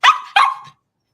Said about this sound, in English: is Mom here or is Snoopy just barking at you